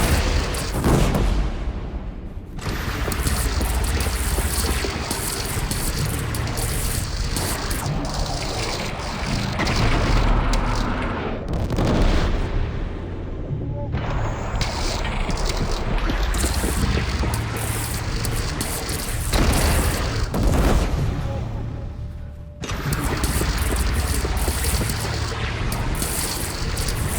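A bridge in Horizon Zero Dawn is shot down and collapses in a prolonged roar of explosions, crashing debris and booming blasts, loud and dense throughout with a few brief drops in between.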